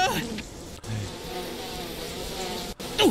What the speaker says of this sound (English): Oh my god, there are bees here